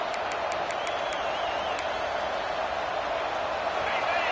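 A stadium crowd cheers and roars at a college football video game matchup between Kansas State and LSU, a dense continuous wash of noise with faint whistles, while a commentator talks over it.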